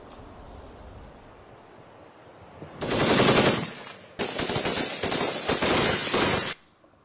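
Bursts of gunfire at the Line of Control, a loud rapid volley of shots, a brief pause, then a longer sustained string of automatic fire that cuts off abruptly, with wind noise underneath.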